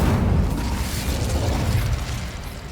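In Hogwarts Legacy, the Incendio fire spell lets out a loud, dense burst of roaring, crackling flame that holds for about two seconds and then fades slightly.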